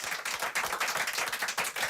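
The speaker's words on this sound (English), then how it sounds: "applaudissements dans ce studio avec des lecteurs, auditeurs de France Inter et membres du jury du livre inter" Studio audience of readers, listeners and jury members applauds the Prix du Livre Inter 2008 winner; brisk, even clapping from a modest crowd, fairly close and continuous throughout.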